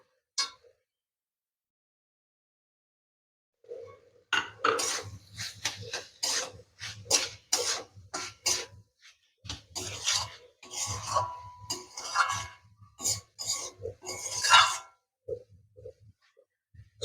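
Ingredients being mixed for spinach puri, with rough rhythmic rubbing and scraping strokes, close and fairly loud, starting after a few seconds of silence and continuing in uneven bursts with no speech.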